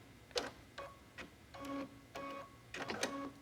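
An embroidery sewing machine stitches a design outline in short bursts of rapid mechanical clicking and whirring, close and fairly quiet, with brief pauses between runs.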